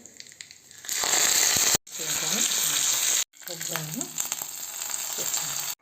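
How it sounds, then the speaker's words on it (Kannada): Mustard seeds crackle and sizzle in hot oil, tempering a ridge gourd buttermilk curry, in three loud, close frying bursts separated by brief silent breaks. "ಈಗ ಸಣ್ಣ ಒಂದು ಒಗ್ಗರಣೆ ಹಾಕೊಂಬಿಡೋಣ"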